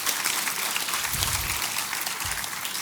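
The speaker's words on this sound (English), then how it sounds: "You can applaud. It's okay." Audience at the ShmooCon 2016 security conference opening remarks claps steadily, a moderately loud, even spread of applause with no talk over it.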